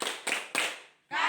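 A classroom of students plays the Tepuk OKE clapping rhythm game, producing three quick bursts of group claps followed by a pause and a longer fourth burst, fairly close and clear.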